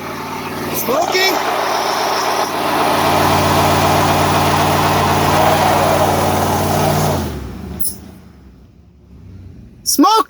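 A 2006 Ford Expedition engine idles after a timing chain, head gasket and spark plug replacement, a steady loud hum that stops near the end, followed by a few clicks and knocks.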